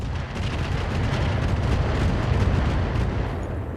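Artillery shelling a building in the mech game Roguetech, a continuous heavy rumbling barrage of booms and impacts, loud and dense without pauses.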